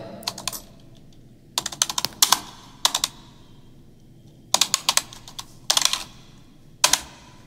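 Bursts of rapid clicking as code is typed on a computer keyboard, several quick flurries of keystrokes separated by short pauses, close and fairly quiet.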